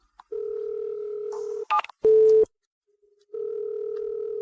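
A telephone number is dialed: a steady dial tone, a quick run of keypad tones with a louder beep, then silence before the line tone returns, close and clear with no talk.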